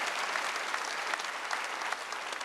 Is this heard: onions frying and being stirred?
no